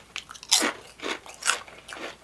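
Crunchy kettle-cooked regular potato chips bitten and chewed close up, four loud crisp crunches spaced about half a second apart with no talking.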